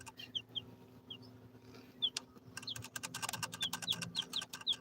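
Tall mixed-breed chickens make soft clucks and chirps, faint and nearby, over a low background hum, with a rapid tapping flurry in the second half.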